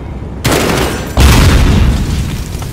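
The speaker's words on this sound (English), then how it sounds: "Another grenade." A grenade goes off in the video game Call of Duty Modern Warfare: two loud, close booming blasts in quick succession, the second heavier, each followed by a rumbling roar, with no speech.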